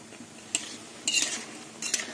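Pointed gourd fritters fry in a pan while a metal utensil clinks and scrapes against it in three short bursts over a quiet, low background.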